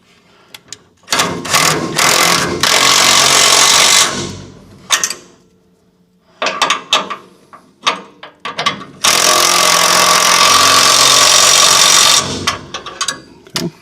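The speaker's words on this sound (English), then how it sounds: "We are tightening the last couple of bolts, which are the ones here holding the bushings on." Power tool tightening the bushing bolts on a 1968 Chevrolet C10 truck, loud close bursts of impact-wrench rattling in several long runs, separated by short clanks and quiet pauses.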